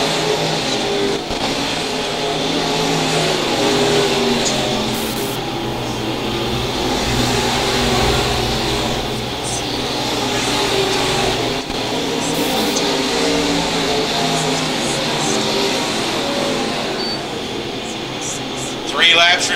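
USRA B-Mod race cars circle Lakeside Speedway in the closing laps, a steady roar of engines and passing cars under continuous announcer commentary, with crowd and track ambience throughout.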